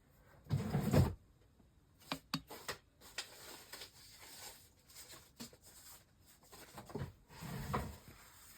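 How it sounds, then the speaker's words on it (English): Hands rummage through a drawer full of papers for a mixed media art journal, shuffling, sliding and rustling sheets in irregular bursts with a few louder thumps close by. "I'm going through my paper drawer here."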